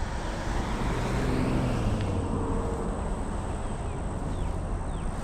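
Road traffic in the former ghost town area of National Gardens, Florida, a steady broadband roar of passing cars with a low engine rumble, continuous and fairly loud throughout, no talking.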